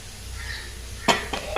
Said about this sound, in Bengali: আমি আরেকটু জল অ্যাড করছি